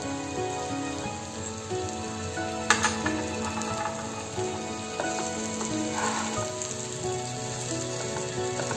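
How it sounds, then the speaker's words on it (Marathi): Salted okra frying in oil in a pan, giving off a steady, close sizzle with faint metallic ticks and a few brief clatters. "कमी गॅस फ्लेमवर भेंडी छान शिजून घ्यायची आहे।"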